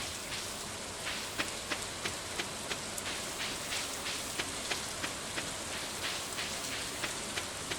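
Steady rain ambience from the Stardew Valley farming game, a soft continuous patter with regular faint droplet ticks, quiet and alone.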